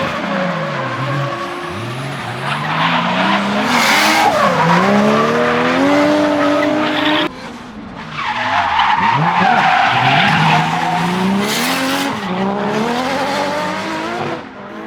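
A Toyota Cresta drifts laps on a race circuit, its engine revving hard and rising and falling through gears while tires squeal continuously, loud and close, with a brief break midway.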